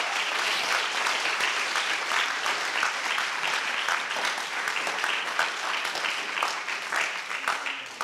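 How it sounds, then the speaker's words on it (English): An audience at a Founders' Day convocation claps steadily for about eight seconds, a full, even round of applause with individual claps flickering through the wash before it tapers near the end. "Give her a hand of applause."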